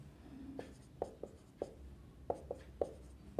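Chalk or marker taps and short strokes on a board during a Class 12 matrix math lesson, about nine faint, close, irregular clicks over quiet room noise.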